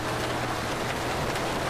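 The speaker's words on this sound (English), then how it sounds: "we got a lot of heavy hail coming down" Heavy hail pounds down during a tornado outbreak in the Garry's Mod video game. It makes a steady, dense patter of hits and hiss that fills the whole short stretch.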